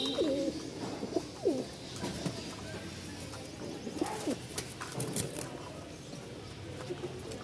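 A male tumbler pigeon coos close by, repeating low throaty calls several times over faint background rustle.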